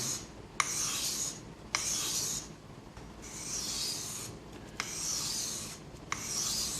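A knife is sharpened on a sharpening surface with light pressure: about six slow, even rasping strokes close up, each a long gritty scrape separated by short pauses and small clicks, with no talk.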